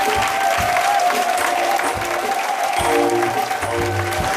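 A church congregation at a French-language deliverance service applauds and cheers to acclaim Jesus, with sustained loud clapping and crowd noise throughout and a few voices mixed in.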